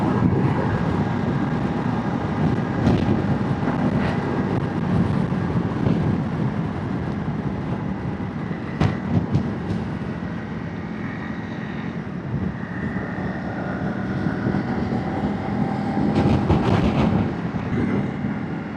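A 2025 Honda CRF300 Rally motorcycle engine drones steadily as the bike climbs a hill on a dual carriageway, a continuous loud rumble mixed with heavy wind buffeting and occasional knocks.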